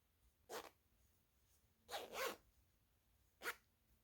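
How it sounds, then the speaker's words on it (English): Three short zipping sounds from an invisible zipper being closed on a garment, close and quiet, with the middle one longer and split into two quick pulls, separated by near silence. "And close the zipper."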